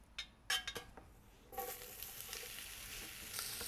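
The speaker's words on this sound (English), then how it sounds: "then just render you down some bacon." Bacon rendering in a pot for a Cajun jambalaya, with a few clinks of utensil against the pot, then a steady, close sizzle and frying hiss that continues without talk.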